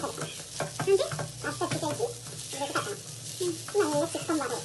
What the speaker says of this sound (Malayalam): തേങ്ങ വറുത്തിട്ട് വറവ്